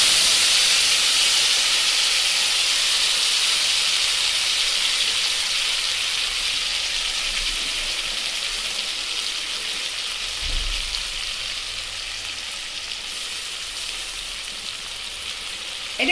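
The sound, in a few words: ginger, onion and garlic paste frying with fried potatoes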